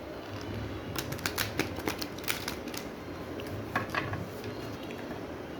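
Tarot cards being shuffled, a run of quick crisp riffling snaps and flicks over a faint background hiss, with a short pause before a second burst.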